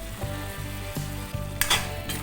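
Dried fish frying in a pan for chutney, a loud steady sizzle with periodic soft stirring scrapes and a brief clatter, no talking.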